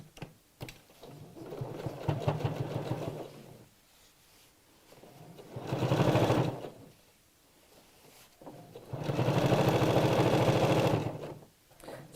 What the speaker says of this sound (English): we're going to carry on sewing all the way down that crease line.